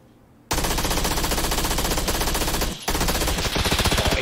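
Sustained automatic gunfire in PUBG on the Vikendi map on Xbox One, loud and dense with rapid bursts starting abruptly, one brief pause, then continuing.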